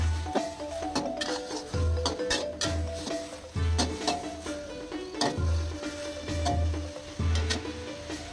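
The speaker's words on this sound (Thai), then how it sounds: "ผัดให้แบบ งวดงวดแห้งๆเลยเนาะ ผัดให้แห้งๆเลย" Glass noodle pad thai is stir-fried until dry, with a steady low sizzle under repeated rhythmic scrapes and clanks of a spatula against the pan, close by and fairly even in pace.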